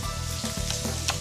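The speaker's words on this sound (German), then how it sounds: "So kräftig muss das brutzeln" Beef shank sears loudly in a hot pan with garlic cloves, a close, steady sizzle and spatter, fat crackling without pause and no voices.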